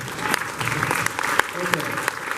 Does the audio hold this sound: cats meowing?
no